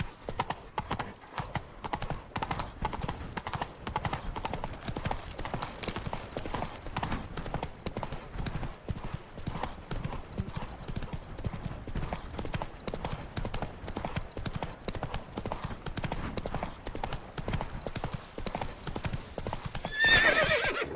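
Roach, Geralt's horse in The Witcher 3, gallops with a steady, continuous clip-clop of hooves over game ambience, with a whinny near the end.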